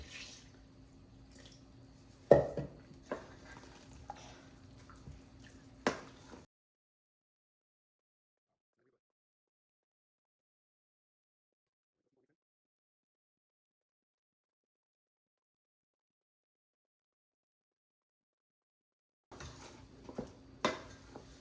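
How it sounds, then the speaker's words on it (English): A spoon stirs cake batter for Jamaican toto in a bowl, giving soft clinks and scraping for several seconds. A long silence follows before faint stirring resumes at the end. "You want to mix until your batter is smooth."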